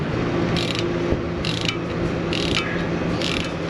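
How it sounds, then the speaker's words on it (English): A torque wrench ratchets in four short, close clicking runs while a mechanic tightens parts on a Jetta strut or Transit brake job. A steady shop hum runs underneath. "Let me get my torque wrench."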